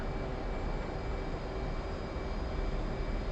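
A CF-18 fighter jet sits ready for takeoff, its engines holding a steady, loud whining rumble with a thin high tone running through it, constant for the whole stretch.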